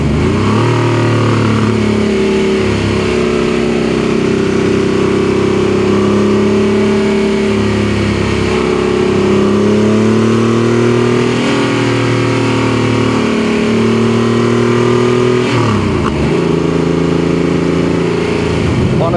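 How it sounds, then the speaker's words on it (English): An air-cooled Porsche 964 911 flat-six revs hard through second gear on a mountain drive, loud and close, exhaust roar rising and falling continuously with intake whoosh near the top of the rev range and a brief lift off near the end. "Right at the top of the rev range in second, you hear exhaust, exhaust, exhaust, exhaust, and then there is a sudden moment where you suddenly hear intake."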